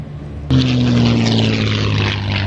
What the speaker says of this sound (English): the sound of warbirds